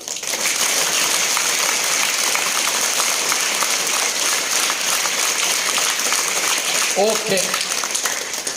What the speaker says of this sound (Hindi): जोर से ताली बजा करके भी ऊर्जा को जागृत करेंगे।